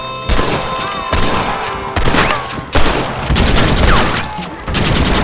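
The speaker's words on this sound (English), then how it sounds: "Use the cannon!" Rapid gunfire and heavy booms from a cannon battle in the Red Dead Redemption remaster on PS5, with dense overlapping shots and blasts running continuously, loud and close.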